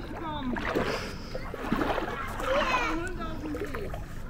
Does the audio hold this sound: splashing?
yes